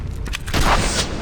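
A single booming sniper rifle shot in the shooter game Pioner, with a deep rumbling report and a short tail, heard amid other game noise.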